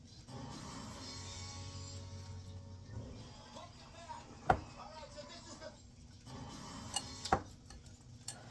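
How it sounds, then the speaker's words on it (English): Spoon scraping and clinking against a bowl while keto cookie dough ingredients are stirred together, soft irregular scraping with a few sharper taps, a person talking faintly at times. "We want to mix this all up."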